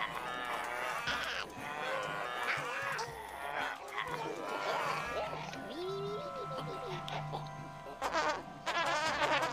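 Sheep bleat in a farming video game, mixed with clucking poultry and other farm-animal calls over busy game sound.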